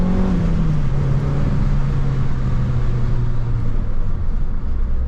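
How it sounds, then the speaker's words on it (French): A big truck passes close by on a road, a loud, steady low engine rumble and broadband roar with a slowly falling drone, filling the whole stretch without talk. "On va laisser passer le gros camion"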